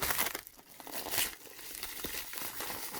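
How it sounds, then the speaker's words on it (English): A priority mail envelope is opened and folded around a knife, producing close, continuous crinkling and crumpling of the paper envelope with brief rustling bursts and no talk. "you just take the priority mail envelope, open it up, slip your knife inside, and then from there I kind of do a tri-fold"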